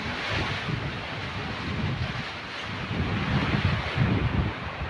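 Heavy typhoon rain and strong wind during Typhoon Kristine, a steady dense roar with gusty surges and low rumbling buffets, close and continuous throughout.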